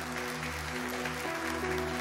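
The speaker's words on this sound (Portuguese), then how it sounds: "Vamos receber o pastor Ronaldo com as palmas," A church congregation claps to welcome the pastor during a Sunday worship service, a soft, steady wash of applause beneath a sustained organ or keyboard drone.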